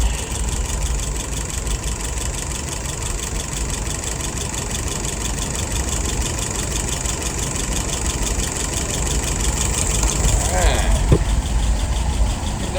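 Car engine idling steadily at about 630 rpm, a continuous low rumble with a slight rise in level toward the end.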